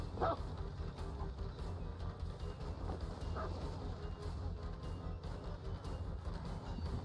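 Houndmaster's dog in the Dead by Daylight video game gives a few short barks and yips early on, set amid steady low game ambience with faint rumbling throughout.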